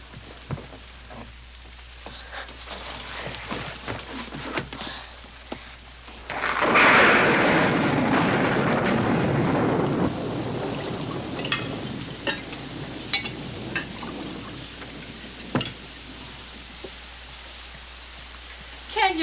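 A heavy thunderstorm with pouring rain surges into a loud, broad roar for a few seconds, then settles into a steady hiss under intermittent conversation between people indoors.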